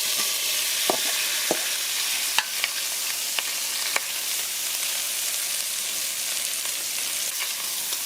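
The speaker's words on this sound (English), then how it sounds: "So I'm just going to let it fry for like 10-15 minutes." Salted pigtails fry in hot oil in a pot, giving a steady close sizzle with occasional crackles, pops and a few stirring clicks throughout.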